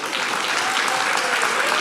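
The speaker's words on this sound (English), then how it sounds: "And if y'all could please clap for Bethany and Nancy and just tell them thank you again and again" A church congregation applauds steadily, a dense, loud wash of clapping that fills the whole moment without pause.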